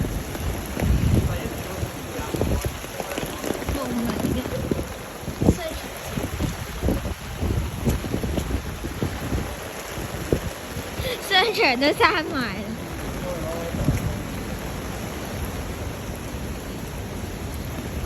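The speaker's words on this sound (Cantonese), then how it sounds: "依家落得超大雨，而家街都好少人" Heavy rain lashes a nearly empty Hong Kong street under typhoon signal No. 9 and a yellow rainstorm warning, a steady close broadband roar with wind buffeting the microphone, while someone talks over it throughout.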